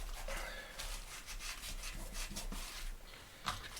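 Glue is rubbed by hand onto a Bible cover for a craft project, a continuous soft scraping and rubbing texture, close and steady, with a small knock near the end.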